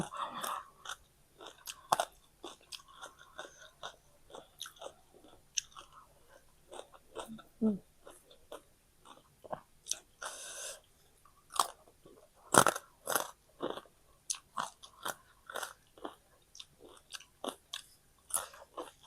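Crispy fried white fish is chewed close up with loud crunchy bites and rapid irregular crunching, pausing between mouthfuls, with a light voice briefly underneath.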